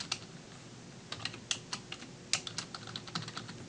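A name is typed on a computer keyboard: quiet, irregular key clicks in short bursts, close by, with no talking.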